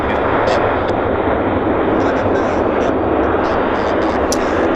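Airliner on approach to Vancouver airport (YVR), a loud steady roar of jet engines holding throughout, broadband and unbroken, with a person talking over it.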